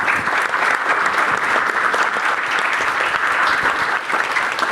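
Loud, steady applause from an audience fills the hall at a round-table event at the Faculty of Mechanical Engineering, University of Ljubljana, a dense clapping that runs without a break for about five seconds.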